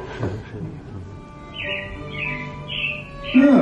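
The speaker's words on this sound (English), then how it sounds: "it looks like the Robins are getting ready to celebrate Valentine's Day today." Animatronic robins chirp in Disney's Carousel of Progress show, a series of bright, clear tweets in close succession over a faint music and room background.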